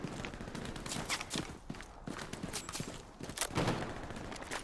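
Dense gunfire from the World War II shooter Hell Let Loose, with a steady crackle of shots near and far and a few louder sharp bursts standing out.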